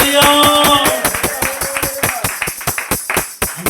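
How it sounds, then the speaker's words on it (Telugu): A church congregation at a Sunday service claps loudly in a steady, even rhythm of sharp hand claps, with a sustained musical tone fading out under the first second. "ఒకసారి గట్టిగా చప్పట్లు కొట్టండి, చప్పట్లు కొట్టండి"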